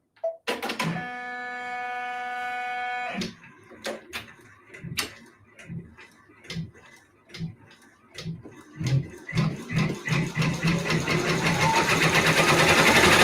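A multi-needle embroidery machine starts up and stitches a mug rug. Sparse mechanical clicks and thumps come first, then a rapid, steady needle chatter that grows louder and faster toward the end, with no talking.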